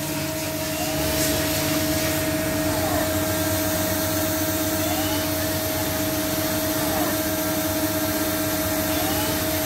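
The spindle of a CNC machine runs steadily at close range, its whine and motor hum holding constant with faint periodic sweeps as the speed varies; the whir is loud and continuous.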